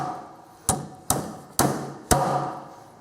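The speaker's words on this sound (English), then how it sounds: "Now you should be able to drive with an 18-ounce hammer." An 18-ounce claw hammer drives a nail with four sharp, evenly spaced strikes, each a loud close crack with a short ringing tail.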